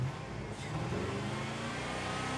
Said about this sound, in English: it doesn't even want to rev up